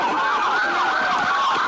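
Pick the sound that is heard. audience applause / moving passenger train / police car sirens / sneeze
police car sirens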